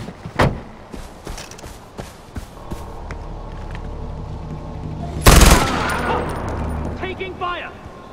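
Bursts of gunfire in the video game Far Cry 4: a few sharp isolated shots early on, then one loud, dense volley midway that trails into scattered echoing noise, with no talking.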